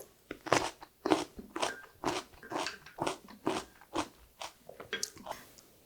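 Crisp crunching bites of unsalted dongchimi radish water kimchi, a steady series of a dozen or so close, juicy chews and crunches with no talk.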